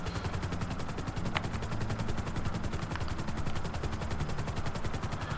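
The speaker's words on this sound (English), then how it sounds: "These helicopters feel very similar to Battlefield for me." Helicopters in a video game give off a dense, fast rhythmic rotor chop that pulses steadily throughout, loud and close, with sharp bursts like gunfire mixed in.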